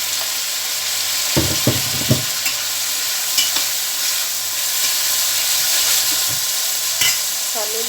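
Onions fried until lightly browned sizzle and hiss steadily in a pan as chopped tomatoes and spices go in for a restaurant-style masala bhindi, with a few sharp stirring clatters and bursts of louder frying near the start, no talking.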